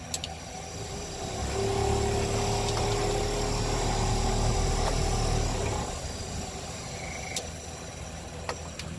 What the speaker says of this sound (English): Blower motor's working, all the lights are working, everything's working.